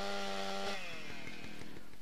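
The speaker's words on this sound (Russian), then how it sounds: "берем бензопилу" A chainsaw in the video game GTA San Andreas revs with a steady buzzing whine that drops in pitch, then settles into a rough, sputtering idle, moderately loud with no talk over it.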